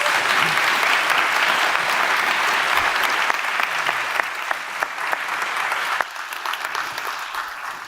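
Sustained audience applause at a live summit session, steady dense clapping from a large crowd for nearly eight seconds, dipping slightly toward the end with a few sharper individual claps.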